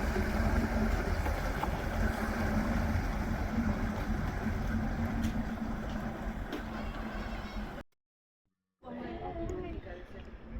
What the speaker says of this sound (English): it's got an inboard engine.